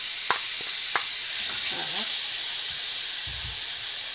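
Tuna added to softened onion in a pan gives a steady, soft hiss, with a few brief clinks and stirring noises early on and a voice murmuring faintly beneath.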